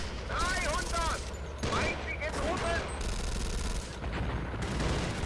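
Sustained machine-gun fire from the hull-mounted gun of a Jagdpanzer IV tank destroyer in the Steel Fury tank game, a steady rattling burst running the whole time with scattered battle noise and someone talking over it.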